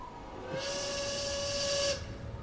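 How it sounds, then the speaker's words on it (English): The Titanic's steam whistle in the Hidden Mysteries Titanic video game sounds one sustained, bright blast of about a second and a half, with a breathy hiss around the tone, then cuts off. "You didn't just blow the whistle, did you?"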